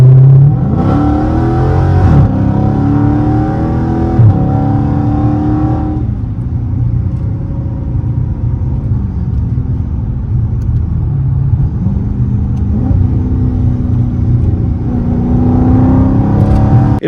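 A Dodge 5.7L R/T V8 with a Demon hood runs in track mode, its deep engine rumble steady and loud throughout, rising in pitch as it revs up and settling back between surges.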